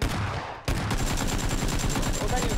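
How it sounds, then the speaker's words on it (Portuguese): Rapid automatic gunfire in PUBG Battlegrounds, a brief lull then a steady stream of close, loud shots rattling on for about two seconds. "Tu acha que é o Hiro que tá te atirando?"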